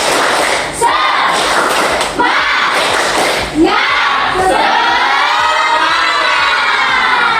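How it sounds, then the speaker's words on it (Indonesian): A classroom of children doing the tepuk semangat clapping chant, a loud, dense burst of young voices shouting together with rhythmic claps and thuds, close and continuous throughout. "Tepuk semangat"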